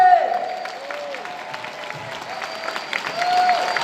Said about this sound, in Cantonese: 掌聲亦都要俾大力啲